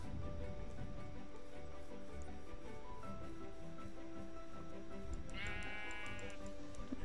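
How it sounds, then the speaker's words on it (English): Sheep in the Minecraft video game bleat once, a short wavering cry heard over a steady layer of game background sound and music-like tones. "these sheep do not give back wool"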